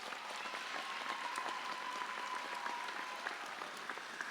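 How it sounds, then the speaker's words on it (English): Audience applause at a high school graduation ceremony, a steady wash of many hands clapping through the whole stretch, moderately distant with no talk over it. "Let's give them another round of applause."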